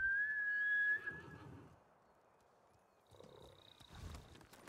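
Horse neighing in the video game Ghost of Tsushima: a loud, shrill whinny up front, followed after a pause by a fainter second whinny with snorting and hoof sounds.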